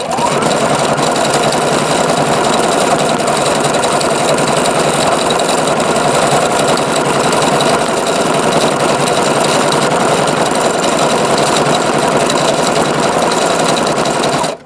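A Juki HZL-F300 or Singer XL-550 sewing machine stitching metallic thread, running at a fast, steady mechanical hum with rapid needle rattle, loud and continuous without pause.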